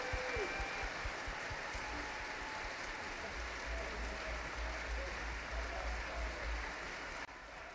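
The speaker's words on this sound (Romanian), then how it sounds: "Să acordăm aplauze pentru echipa de creație." An audience at an outdoor symphonic concert in a park applauds with steady, continuous clapping that sounds distant and faint throughout.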